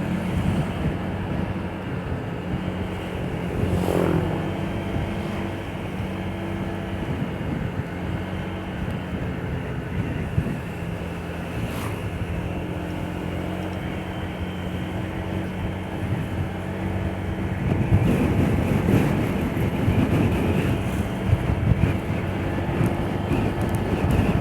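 Strong wind buffeting the microphone on a road trip from Sinjai to Makassar through the Malino pine forest, a steady broadband roar that swells louder near the end, with no talking.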